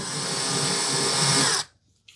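A power drill drives screws into a wooden TV unit in a woodworking build, a loud, steady whir running continuously for about a second and a half before stopping abruptly, followed by near silence and a faint click.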